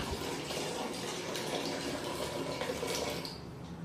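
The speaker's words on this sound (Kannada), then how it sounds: "ನೀರು ಬಿಟ್ಟಿದೆ, ಆಫ್ ಮಾಡಿದೆ" Water running from a tap in a steady, close gush of splashing noise that holds evenly and eases slightly at the end.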